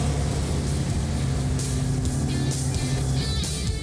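A steady, rumbling classic Dodge Coronet engine idles close by, low and even with a slight lope, running alone with no talk over it.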